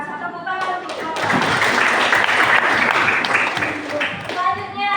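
Students in a classroom clap together in a loud burst of applause lasting several seconds, with voices calling out over it near the start and end.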